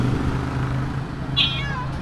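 A cat meow generated by a pet translator app plays once as a brief, high, clear call from a phone speaker over a steady low hum.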